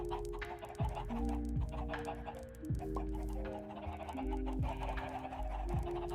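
Chickens cluck in Minecraft, several short clucks and calls scattered over a steady music or ambient bed, fairly close and clear, with no talking.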